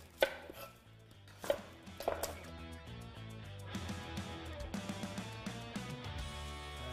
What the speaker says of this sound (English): I'm gonna julienne up 2 onions.